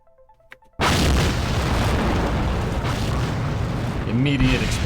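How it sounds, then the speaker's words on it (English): Rocket blowing up in Kerbal Space Program, a sudden loud booming blast after a quiet start, then a sustained roaring rumble with faint sharp beeps near the end. "Immediate explosion."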